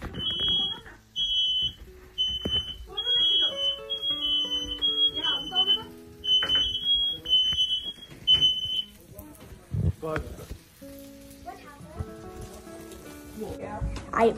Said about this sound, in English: I believe you heard in complete blackness that the fire alarm went.